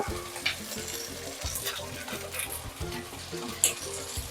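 Garlic and onion fry together in a pan with a dense, continuous close sizzle and rhythmic stirring scrapes, plus a couple of sharper clinks, with no talking.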